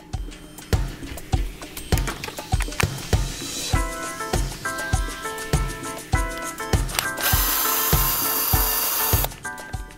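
Bolts are being removed from the diff case cover of an Arrma Mojave 1/7 RC desert truck, with a steady run of quick rhythmic ratcheting clicks and scraping close up, closing in a sustained hiss of rubbing.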